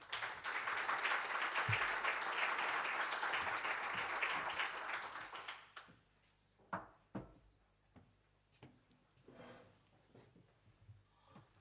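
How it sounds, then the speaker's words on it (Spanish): An audience at a Galician event gives loud, sustained applause that fades after about six seconds. Scattered knocks and thuds follow in the quieter room. "Por favor, un fuerte aplauso."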